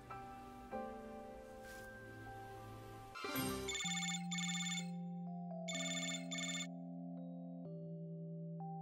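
A phone's melodic ringtone plays for an incoming call, opening with a sustained tone, then a brief rustle before a clear repeating chime pattern rings out steadily and fairly loudly.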